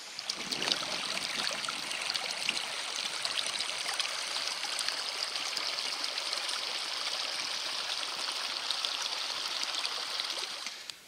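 A small mountain torrent flows steadily near a forest bivouac, a constant close, bright rushing and trickling of water that holds evenly throughout with no voices.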